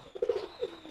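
A recovered pigeon gives a short, soft coo of two quick throaty notes, close and quiet against a faint background.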